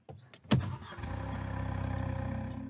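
A car engine in a radio drama cranks briefly after a couple of sharp clicks, catches, and settles into a steady, moderately close idle hum.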